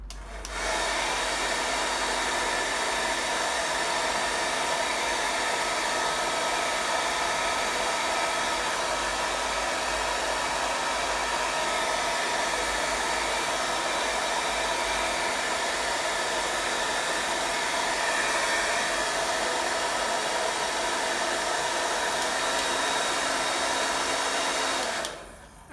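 A hair dryer blows continuously on wet acrylic paint on a canvas, a loud, steady whooshing roar that runs almost half a minute before cutting off.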